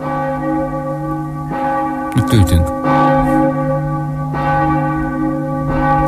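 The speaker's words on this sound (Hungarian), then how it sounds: "Van a harangszóban valami földön túli, nem?" Church bells ring at Christmas time around midnight mass, a sustained, steady peal of layered tones that carries throughout, with a brief voice speaking over it partway through.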